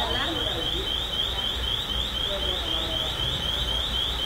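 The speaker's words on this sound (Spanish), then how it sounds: "Son los teléfonos. La alarma de los teléfonos." Mobile phones sound their alarms indoors, a rapid repeating high electronic warble that keeps pulsing steadily while people talk over it.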